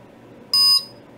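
Electronic buzzer driven at 10,000 hertz gives one short, piercing high-pitched beep of roughly a quarter second, loud and close against a quiet background hiss.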